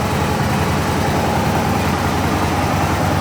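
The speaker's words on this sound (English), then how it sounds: "The engine still sounds pretty well balanced. Stands pretty nice, there's no rumbles, no bangs, clanks, anything along those lines as it's going around." Aprilia RSV Mille or Tuono V-twin motorcycle engine, with big 97mm pistons, idling steadily in a workshop, giving a loud continuous low rumble that stays even for the whole stretch with no talk.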